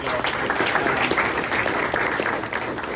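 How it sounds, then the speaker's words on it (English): A luncheon crowd gives the sponsor InvestTech a round of applause: thick, continuous clapping from many hands, even in loudness throughout. "so let's give them a round of applause"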